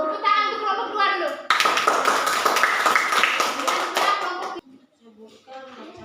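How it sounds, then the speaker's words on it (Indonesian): A classroom group breaks into applause for group 2, a brisk burst of many hands clapping for about three seconds, with a teacher's voice talking before and after. "Tepuk tangan untuk kelompok 2 dulu."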